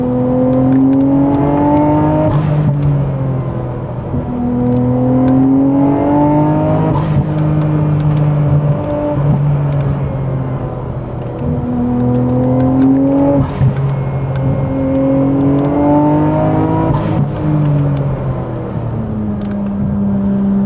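Nissan R34 GT-R with its RB26 engine and upgraded fuel system revving loudly and steadily, pitch climbing and falling in repeated rising sweeps every few seconds, like smooth gear pulls under load, with no talk.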